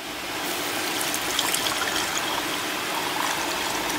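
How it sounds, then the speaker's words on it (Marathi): Water poured into a pan of crackling cumin while making jeera rice, a steady close trickling stream lasting a few seconds with no talk. "आता मी अंदाजीच पाणी टाकणार आहे याच्यामध्ये,"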